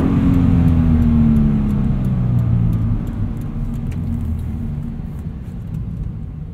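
Car engine in a manual car during heel-and-toe downshifting, a loud close droning rumble with pitch falling as revs drop, then a steady lower hum with faint road noise.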